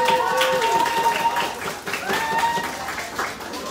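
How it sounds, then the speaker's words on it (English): A crowd applauds with a dense patter of claps while a voice keeps talking over it. "So can we give a round of applause for Aija and Will, please?"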